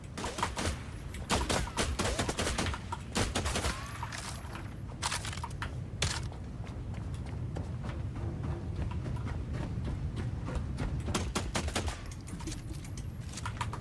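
Gunfire in The Last Caretaker video game: bursts of rapid shots and single cracks, moderately loud, scattered across the stretch with quieter gaps and background game ambience.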